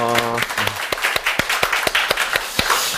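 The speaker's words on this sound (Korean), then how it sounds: "찬양받으신 하나님께 감사의 영광의 박수 올려드리겠습니다." Church congregation giving applause to God, a short burst of distinct, fairly loud claps in an uneven rhythm, with a voice at the start.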